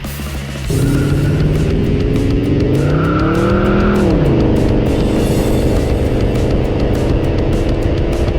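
A hand-built pro-touring Henry J with a 383 engine roars loud and close, its steady drone swelling into a rising rev and then settling back into a sustained, powerful engine note.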